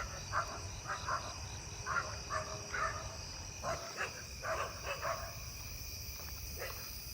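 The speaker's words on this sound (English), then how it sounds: "Oh, I hear a broad-winged tree cricket." A broad-winged tree cricket in a neighbourhood chorus keeps up a faint, steady high trill. Soft repeated chirping bursts from other insects or frogs come and go over a quiet background.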